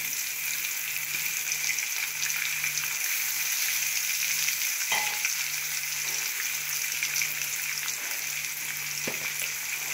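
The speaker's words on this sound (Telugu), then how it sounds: "దీన్ని ఇలా ఫ్రై చేయాలన్నమాట" Ground mint paste fries in a pan with a constant, even hiss and sizzle, with a couple of faint clicks or stirring knocks over ten seconds.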